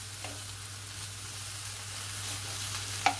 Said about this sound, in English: I think I can stir it now